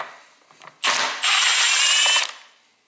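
A nut is loosened on a Toro TimeMaster 30-inch mower with a power tool: a short burst of whirring and rattling, then a longer, steady, loud mechanical buzz lasting about a second before it stops.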